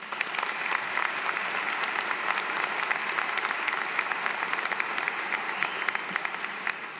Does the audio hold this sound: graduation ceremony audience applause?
yes